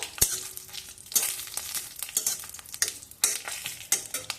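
Whole cumin, mustard seeds and dry red chillies crackling in hot oil for a Bengali-style bhindi masala, a bright sizzle punctuated by repeated scraping stirs of the spoon, close and fairly loud, with no voices.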